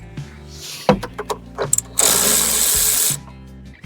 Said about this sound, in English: Now I can take the nuts off the back here that I had on there